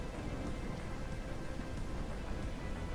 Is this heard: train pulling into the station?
no